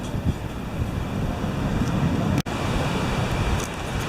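Wind on a beach at the Bay of Banderas in Mexico on a cloudy day makes a steady broadband roar buffeting the microphone, with one brief dropout midway.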